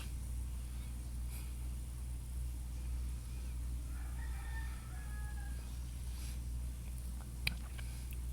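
Layer chickens on a poultry farm cluck and crow at a moderate distance over a constant low hum, with a few brief calls rising above the background.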